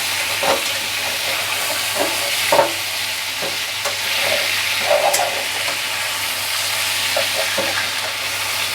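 Hilsa fish pieces frying in oil in a pan, a steady sizzle with several soft scraping and stirring knocks as the pieces are carefully turned over.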